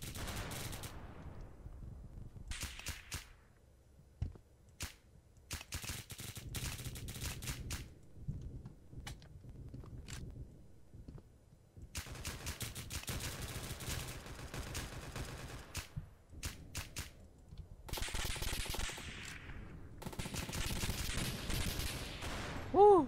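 Gunfire in the Roblox video game Oof Brigade: bursts of rapid shots and single cracks separated by quiet gaps, fairly faint and mixed with some background voices.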